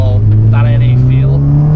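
A Honda Civic Type R EP3, naturally aspirated, revs hard and loud with its engine note climbing steadily through the VTEC crossover, while people talk over it.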